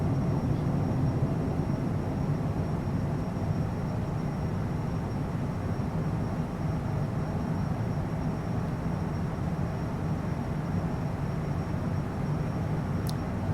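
A CJ4 business jet climbing after takeoff in Microsoft Flight Simulator gives off a steady, even engine roar and rushing cabin drone that holds unchanged throughout with no voices.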